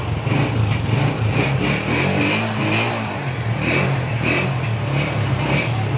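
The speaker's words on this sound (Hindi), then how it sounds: "अच्छा जी 11 मॉडल होंडा 125 पहाड़ी इलाकों की साउंड सुने जरा।" A 2011 Honda 125 motorcycle engine runs steadily and loud up close, its single-cylinder thrum holding a constant, even note throughout in a hilly area.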